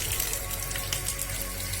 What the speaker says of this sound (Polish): Pod bieżącą wodę, nie, nie za ciepłą, nie za zimną.